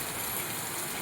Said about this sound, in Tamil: திண்டுக்கல் மாவட்டம் மழையை பாருங்கள் எப்படி அடித்து ஊற்றுதுன்னு.